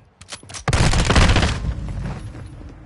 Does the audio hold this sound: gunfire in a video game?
yes